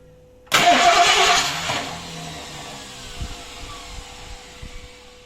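A 1964 Lincoln Continental fitted with a 5.0 Windsor V8 cranks on an old clacker-style starter motor, a loud, close burst of harsh whirring that fades after about a second into lower rumbling and scattered clunks.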